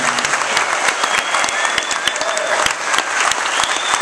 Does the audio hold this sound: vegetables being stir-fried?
no